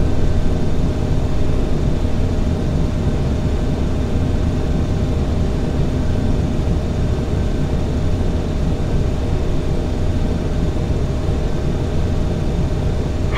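Airliner in Microsoft Flight Simulator X taking off and climbing, a loud steady engine roar and rumble that holds constant throughout with no voices.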